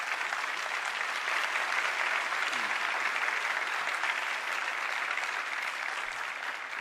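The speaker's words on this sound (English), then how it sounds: "Would you please give these students a round of applause for their accomplishment?" Audience applause for honored students at a formal school board meeting, a steady, dense wash of many hands clapping in a large room, sustained at even loudness throughout before easing slightly at the end.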